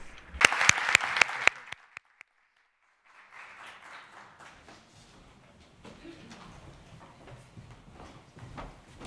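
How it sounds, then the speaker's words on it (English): At an anniversary ceremony, a few sharp, loud claps ring out, then after a brief silence a softer, scattered audience applause rises and continues at a moderate distance, with faint voices mixed in. "Big applause to you all."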